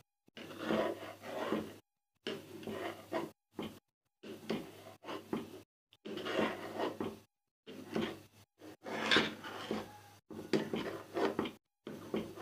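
A spoon stirs and scrapes a sohan halwa flour mixture with melting ghee in a pan over a medium-low flame, making repeated soft scraping bursts separated by short pauses, close and fairly quiet.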